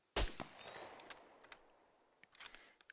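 One loud, sharp gunshot in a video game, followed by fainter scattered shots and metallic clicks that trail off, with no talking.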